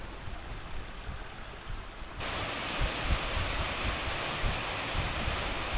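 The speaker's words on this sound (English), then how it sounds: "Dolgoch Falls, and Mark McGee loves a waterfall" Dolgoch Falls, a waterfall in Wales, makes a steady broadband rushing roar that swells noticeably louder a couple of seconds in and then holds constant, with no voices.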